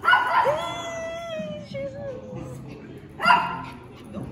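Dogs at a dog cafe in South Korea bark and yip nearby, with a long whining howl between two sharp bursts and people talking softly underneath.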